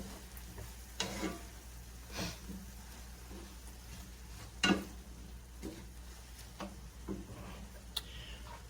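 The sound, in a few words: onion and celery sizzling in a pan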